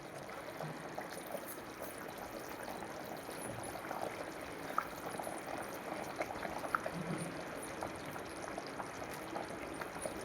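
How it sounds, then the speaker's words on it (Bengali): Bhetki fish kalia curry simmers under a lid in a pan, giving a steady, even bubbling hiss with faint small pops throughout, moderately close and with no talking. "এবার আমি ঢেকে রাখছি, ফুটে উঠুক"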